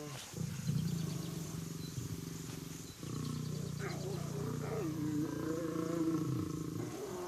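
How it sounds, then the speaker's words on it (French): Lions purr softly while resting, playing or grooming, a low, continuous rumbling drone that pauses briefly midway, then resumes with faint wildlife sounds in the background. "Les lions émettent eux aussi un léger ronronnement lorsqu'ils jouent, se lèchent ou se reposent."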